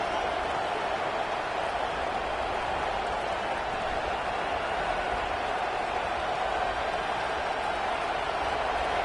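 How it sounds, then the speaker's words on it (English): A large college football stadium crowd in a video game roars with a steady, dense wash of cheering noise that holds evenly throughout, with no clear pauses or individual voices standing out. "This crowd bringing the energy and noise early."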